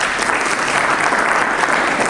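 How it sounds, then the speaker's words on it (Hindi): An audience in a hall at a leadership session bursts into loud, dense applause, a continuous close wash of clapping with no pauses, heard on its own. "फिर से तालियां।"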